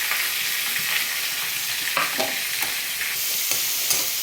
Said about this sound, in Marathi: आता पाच मिनिट आपण हा मस्तपैकी कांदा परतून देऊ